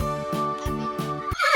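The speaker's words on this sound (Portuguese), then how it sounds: "exata! Um cavalo!" A horse whinnies in a series of four evenly spaced, tonal calls at moderate volume, ending in a short, breathier burst.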